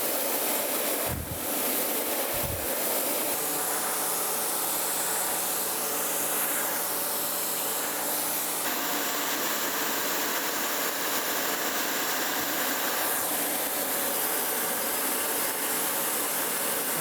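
A surface grinder takes a fine grinding pass on a steel taper gage, a loud steady hiss and whine held close throughout, with a couple of brief knocks at the start and a higher tone entering partway through.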